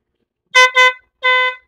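Two short honks from a motorcycle horn wired through an interrupter relay, then a longer blast after a brief pause; loud, close and bright, with nothing else around it.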